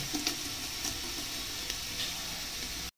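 Curry leaves dropped into hot oil with half-fried sliced onions, giving a soft, steady sizzle and crackle with a few brief sharper pops, fairly quiet throughout.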